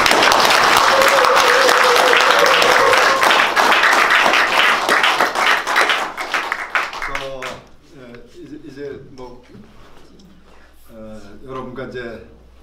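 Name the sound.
audience applause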